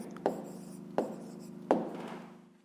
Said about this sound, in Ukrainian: Записуємо відповідь. Ну і пишемо 32 гривні.